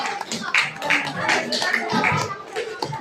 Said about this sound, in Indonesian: Jadi kita kasih tepuk tangan buat kelompok astronomi